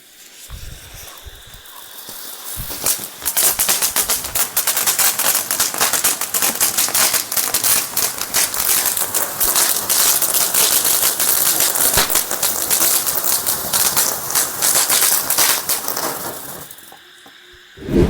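A golden fountain firecracker lit at night gives a few faint ignition crackles, then a long, loud, steady hissing spray dense with crackling sparks for about fourteen seconds before sputtering out.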